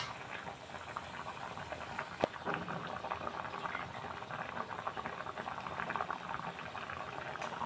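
Curry simmering in a pot over a full flame, a soft, continuous bubbling and popping with one sharp click near the start, close but quiet, with no voices.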